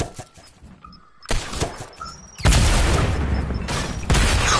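Explosions bombarding a castle in Fortnite Creative mode: a series of sharp blasts that strike at irregular intervals, each followed by crackling debris. The last blasts are the loudest and most sustained.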